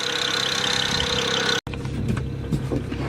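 A BMW N54 engine runs steadily at idle with a continuous mid-pitched hum and ticking injector noise, briefly cut by a near-silent gap before the engine sound resumes with slight rough variations.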